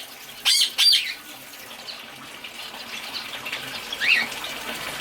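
Pet cockatiels and finches in a home bird cage give a few short, sharp chirps, two close together early and one later, over a steady watery background hiss.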